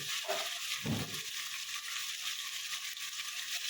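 Prawns fry with chopped banana stem in a hot pan, a continuous bright sizzle with a couple of stirring scrapes near the start, close and steady with no talking.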